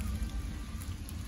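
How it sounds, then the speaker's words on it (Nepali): Rain falls on a hilltop ridge as a steady, dense patter with no voices. "हिउँ चाहिँ होइन पानी पर्यो"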